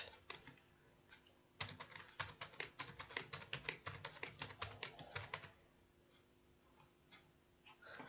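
Keys clatter on a computer keyboard while a name is typed into a spreadsheet, a quick run of close, crisp clicks lasting a few seconds, then a few scattered taps, with no talking.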